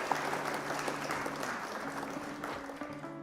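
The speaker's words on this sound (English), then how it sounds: "Round of applause for our opponent, Dazm!" A room applauds a defeated opponent during a live Flesh and Blood card game stream: steady, dense clapping that runs for about three seconds, loud and close, with no talk over it.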